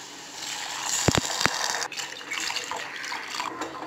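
Water poured into a pan over fried curry leaf tempering for upma: a steady splashing gush with a few sharp clinks near the start, close and fairly soft, no voices.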